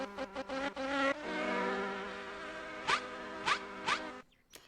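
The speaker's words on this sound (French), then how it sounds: "Elles font du bruit bizarre, les abeilles." A steady, electronic-sounding bee buzz from a video game (Adibou 2), with a humming tone, broken by a few brief swelling pulses, moderately quiet and with no talking.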